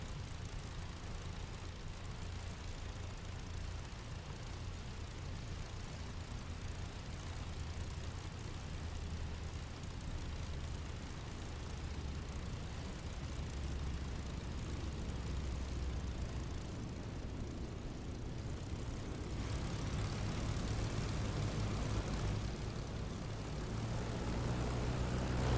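An aircraft taxiing slowly in the DCS flight simulator game produces a steady engine drone and rumble that swells gradually louder toward the end.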